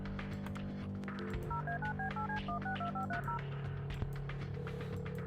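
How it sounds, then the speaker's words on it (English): A phone number dialed in the point-and-click game Kathy Rain, a quick run of about a dozen touch-tone beeps over a low sustained music bed, followed by a soft thunk. "I wish you could skip the phone ringing."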